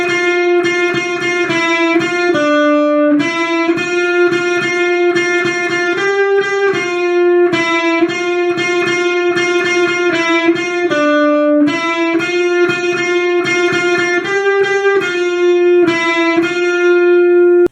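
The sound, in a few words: electric guitar playing verse of a song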